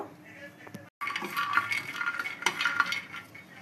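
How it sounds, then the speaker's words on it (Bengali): Peanuts dry roasting in a frying pan on a gas stove are stirred, a busy rattling scrape of nuts and utensil against metal, close and fairly continuous after a brief pause. "ফ্রাইং প্যানটা বসিয়ে দিলাম। অ্যান্ড এবার দিয়ে দিচ্ছি বাদামটা, ড্রাই রোস্ট করব"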